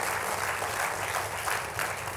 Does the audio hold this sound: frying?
no